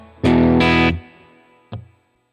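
A distorted electric guitar played through an HX Stomp with shimmer reverb gives a loud strummed chord that swells brighter, then decays into a hall-like tail before a short final stab.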